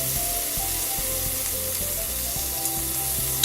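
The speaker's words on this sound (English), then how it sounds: "First thing we're gonna do is fry, and what I've taken here is 2 slices, just 2 slices of bacon" Two slices of chopped bacon fry in a pan over medium-low heat, a constant close hiss and crackle of sizzling fat, with faint low knocks of the pan underneath and no talk.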